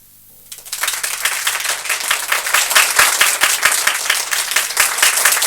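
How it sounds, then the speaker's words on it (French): An audience at an evening show at the L'Écluse cabaret bursts into loud, sustained applause, rapid dense clapping rising after a brief quiet start and continuing strongly to the end. "Et vous applaudissez, admirez son effort."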